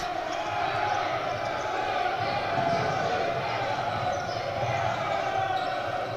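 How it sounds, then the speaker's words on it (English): A basketball crowd at a women's under-18 FIBA AfroBasket group game between Mali and Morocco keeps up a steady, distant roar and hum, with no breaks, while a commentator talks over it. "you can hear the crowd growing ever more loud here in favor of Mali"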